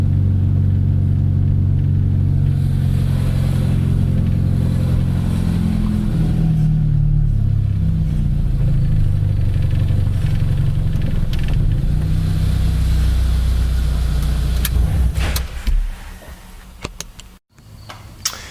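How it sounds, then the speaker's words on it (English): A 1996 Honda Accord engine rumbles steadily from inside the car pulling into a driveway, with shifting revs and ticking, then slows and settles near the end. "Just gonna pull right into the driveway here"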